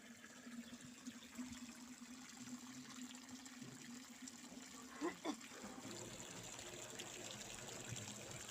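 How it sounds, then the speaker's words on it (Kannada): Water running from a tap and spilling over, a faint steady trickle with a couple of brief splashy bursts midway and quiet background voices. "ನೀರು ಬಿಟ್ರಲ್ಲ ತುಂಬ ನೀರ ಚೆಲ್ಲುತ್ತಾವ"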